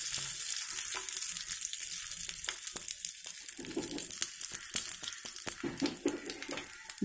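Tempering spices (popu) frying and crackling in hot oil in a pan for a curry leaf and tomato chutney: a steady close sizzle with irregular sharp pops and a few stirring scrapes.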